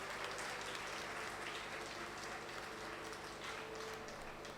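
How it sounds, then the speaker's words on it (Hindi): A crowd applauding steadily, dense clapping that holds throughout at a moderate distance. "एसकेडी ग्रुप के चेयरमैन हम सबके परम आदरणीय एसके सिंह को एक बार तालियों के गड़गड़ाहट से स्वागत करिए"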